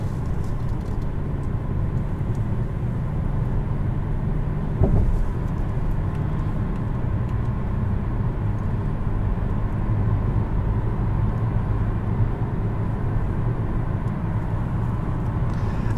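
A 2020 Kia Soul GT Line with its turbo engine running while driving, a steady low throaty rumble with road noise heard from inside the cabin, continuous and fairly loud, with one brief bump partway through.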